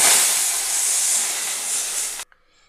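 Water poured into hot oil tempered with black cumin, a loud burst of hissing steam that lasts about two seconds and then cuts off abruptly into near quiet.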